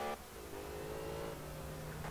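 A car engine revving in the Alarm für Cobra 11 driving game, a steady mid-pitched drone that climbs and holds through the run, fairly close and faint, with no talking over it.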